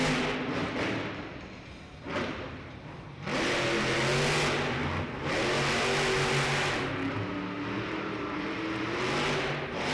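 The Wildside monster truck roars through repeated loud engine revs and surges in an indoor arena at a Monster Jam event, with the rumble rising and falling as the truck crosses the track.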